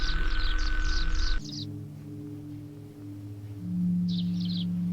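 Chirping bird sound effects from the video game OFF: a quick burst of bright, high chirps over a low musical drone, a quieter stretch with steady tones, then another short chirp burst.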